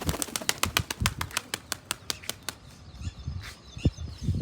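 Pigeon wings beat in a rapid, loud run of sharp flaps close by for about two and a half seconds, then fainter rustling and a few soft thumps follow as the birds settle.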